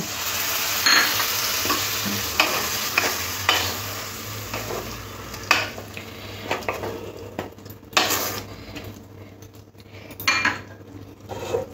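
Okra with tomato and a splash of water cooking in a pan, a continuous sizzle under repeated spatula scrapes and metallic clinks of utensil against pan, close and busy throughout.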